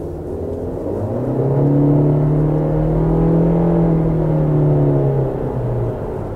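A 2017 Honda CR-V Touring drives on the road, its steady engine hum and tyre rumble rising slightly as it picks up speed, then holding an even drone close up inside the cabin with no talking.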